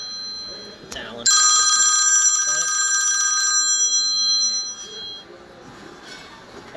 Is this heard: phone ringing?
yes